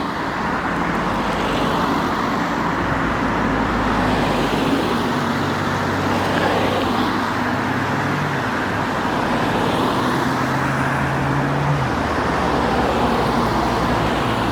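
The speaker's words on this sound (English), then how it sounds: "I wish it wasn't so noisy with the cars" Steady roadway traffic from cars, buses and mopeds rumbles continuously along a coastal walk by the beach in Greece, with vehicles swelling and fading as they pass close by, and no talking heard.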